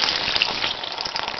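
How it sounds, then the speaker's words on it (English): Water gushes steadily from an opened valve on a house plumbing pipe during winterizing, a continuous close hiss and splash with no talking. "the water starts to run out."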